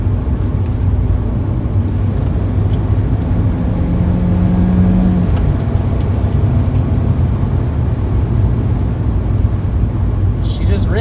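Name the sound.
BMW E36 car engine accelerating while driving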